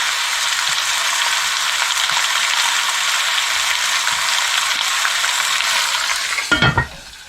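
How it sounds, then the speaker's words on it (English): Chicken pieces frying in a pan for a chicken curry, a steady close sizzle running without pause, ending in a few brief clatters near the end. "Let's go ahead and get this brown."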